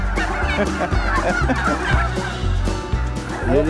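Farmyard poultry, geese with capons and turkeys, on a farm in Corrèze, honking and cackling loudly and continuously, with overlapping calls close by and no talking.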